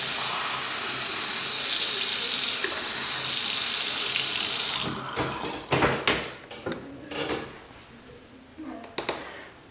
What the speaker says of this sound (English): We're gonna put some hot water right now.